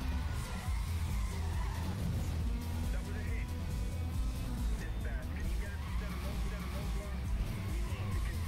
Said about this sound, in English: I'm drifting way too much now